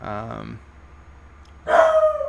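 Sassy, a pet dog, gives one loud bark indoors right after a short bit of speech, following a quiet pause.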